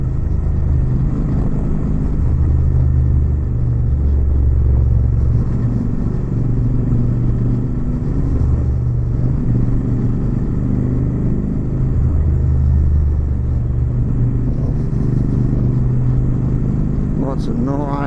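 A Royal Enfield Super motorcycle cruises along the Old Pacific Highway in Australia, its engine a steady low rumble mixed with wind noise beneath a rider talking throughout.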